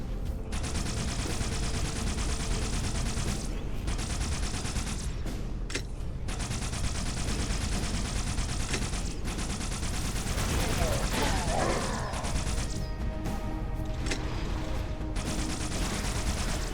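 Needler guns in Halo: Spartan Assault fire continuously at enemy turrets, a steady dense rattle of rapid shots running the whole time with short gaps and mixed battle noise underneath.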